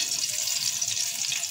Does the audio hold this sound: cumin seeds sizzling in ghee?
yes